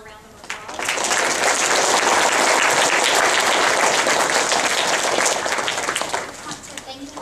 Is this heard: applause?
yes